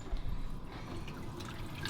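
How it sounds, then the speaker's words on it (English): Cold tap water runs over freshly cooked food in a kitchen sink to cool it, a faint, steady splashing trickle with small drips, heard alone and fairly quiet. "run this under cold water."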